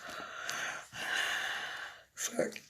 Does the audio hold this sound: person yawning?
yes